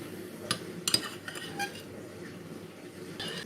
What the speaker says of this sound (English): And then we're just going to mix this all together.